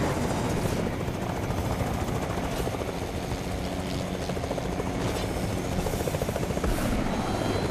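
A helicopter in GTA Online thrums loudly and steadily with dense rotor chop and engine roar throughout, close and continuous, with faint sharper bursts now and then.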